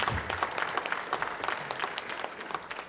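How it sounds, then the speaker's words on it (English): Audience applause at a Kwanzaa celebration, a steady wash of many hands clapping with individual claps popping out, moderately distant and continuous throughout. "Let's give another round of applause for Soronika Diaz."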